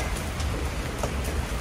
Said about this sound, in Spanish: Traigo paraguas porque sí anda lloviendo bastante.